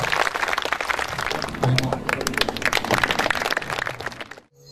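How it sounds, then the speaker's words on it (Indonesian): An audience at a seminar bursts into warm applause for Mas Butet, a dense, lively clatter of many hands that keeps going for several seconds before stopping abruptly. "Kita beri aplaus yang meriah untuk Mas Butet"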